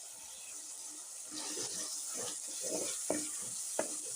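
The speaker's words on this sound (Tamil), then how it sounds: "சில்லி பவுடரும் டர்மரிக் பவுடரும் போட்டு நல்லா வதக்கி" Chilli and turmeric powder sautéing in a pan for chicken curry, a steady close sizzle with soft stirring scrapes and a couple of sharp clinks near the end, no talking.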